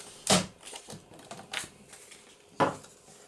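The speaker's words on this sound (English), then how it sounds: "So I'm cutting it just a little bit shy of that fold" Scissors cut paper for a trifold papercraft embellishment, giving a few sharp, close snips with a softer rustle and faint handling noise between them; no voices.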